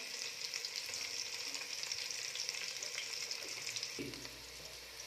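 Garlic and shallots sautéing in a pan for a village-style Tamil mutton kulambu, a steady close sizzle with light stirring that drops in level near the end, no talking.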